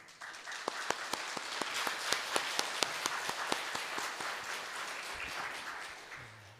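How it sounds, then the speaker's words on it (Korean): A church congregation at a Sunday worship service claps to welcome a visiting lecturer to the front, a steady, full round of applause with sharp individual claps standing out before it thins toward the end. "앞으로 나오실 때에 우리 크게 박수하시면서 환영해 주시기를 부탁을 드립니다"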